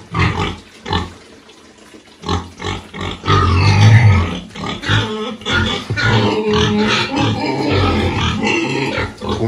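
Pigs raised for sale on a small farm grunt and snuffle close by in repeated rough bursts, quieter at first, then a louder, denser stretch of overlapping grunts.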